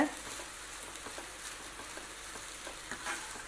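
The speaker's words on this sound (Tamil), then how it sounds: "இதையும் நல்லா ஒரு தடவை கலந்து விட்டுருங்க" Cowpea poriyal with ground coconut being stirred in a pan, giving soft continuous sizzling over quiet, repeated scraping of the spoon.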